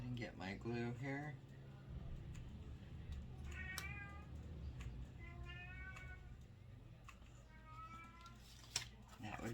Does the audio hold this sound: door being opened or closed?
no